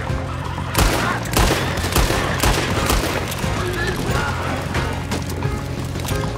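Rapid bursts of gunfire fill a Red Dead Redemption 2 shootout, with repeated sharp cracks and volleys overlapping loudly and steadily throughout, close and continuous.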